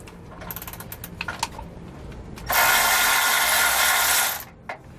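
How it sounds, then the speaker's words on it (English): A socket wrench backs a 13mm bolt out of a jounce bumper on the frame of a 2014 Thor motorhome, with a few scattered ratchet clicks and clanks followed by a loud, steady whirring burst of about two seconds. "We're going to remove our jounce bumper using a 13mm socket."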